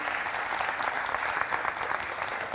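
An audience bursts into sustained, dense applause after a folk stage performance by a Jabalpur cultural troupe. The clapping is even and continuous, filling a large hall from start to finish.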